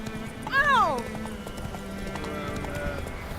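Roach, the horse in The Witcher 3, gives one loud whinny under steady hoof clip-clops, the clopping carrying on quietly for several seconds afterward beneath a low ambient bed.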